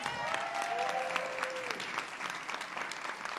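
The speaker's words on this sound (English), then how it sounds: "Give them all a round of applause." Audience applause at a leadership institute demo day, steady and fairly loud clapping from a mid-sized crowd filling the whole stretch.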